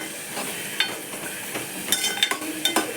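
Vegetables for sambar sautéing in a hot pan, a soft continuous sizzle broken by several sharp scraping stirs of a spoon against the metal, close and clear with no talking.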